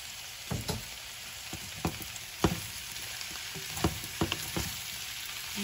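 Tomato sautéing with onion and garlic in a pan for a pork and chayote dish, a quiet steady sizzle punctuated by repeated clanks and scrapes of a spatula stirring.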